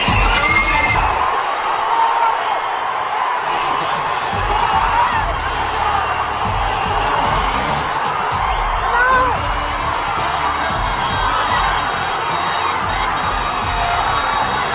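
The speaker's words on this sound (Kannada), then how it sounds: "ಅಭಿಮಾನಿಗಳತ್ತ ಜೂನಿಯರ್ ಎನ್ಟಿಆರ್ ಕೈ ಬೀಸ್ತಾ ಇದ್ದಂತೆ ಅಭಿಮಾನಿಗಳ ಹರ್ಷೋದ್ಗಾರ ಜಾಸ್ತಿ ಆಗುತ್ತೆ" A large crowd of fans in Bengaluru cheers and shouts continuously for a visit by actor Jr NTR, with high excited whoops and children's shrieks sustained loudly throughout.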